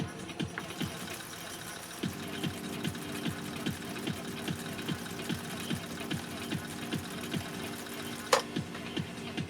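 A Husqvarna Viking Model 2000 sewing machine runs a 3-point zigzag stitch, a steady rapid mechanical chugging with evenly spaced needle strokes, close and alone throughout.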